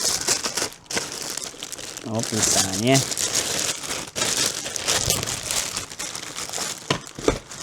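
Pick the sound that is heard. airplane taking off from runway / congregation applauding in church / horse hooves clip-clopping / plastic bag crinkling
plastic bag crinkling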